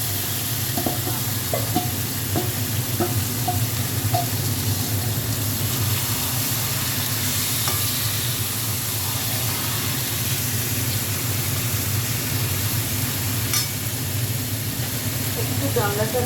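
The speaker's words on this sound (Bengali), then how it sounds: "পেঁয়াজটা ভাজা হয়ে গেছে, এবার মাখা আর মাছটা দিয়ে দেবো।" Fish added to fried onions and spices sizzles loudly and steadily in a pan, a dense continuous frying hiss with occasional stirring clinks up close.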